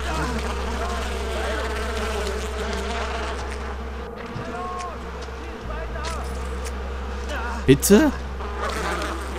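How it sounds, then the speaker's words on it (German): A released swarm of bees in the video game Far Cry 4 drones with a dense, continuous buzzing over a low steady hum, while someone talks briefly over it. "Aber ich will gerne mal die Bienen freilassen."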